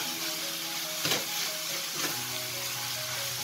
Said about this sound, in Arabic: وعلى فكرة هاني درت البطاطا كتقلى